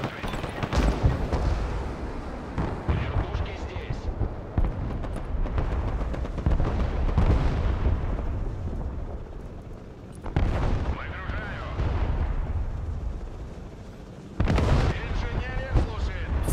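Artillery fire in the real-time war game Broken Arrow thunders in repeated heavy booms and rumbling blasts across the whole stretch, with players talking over the barrage.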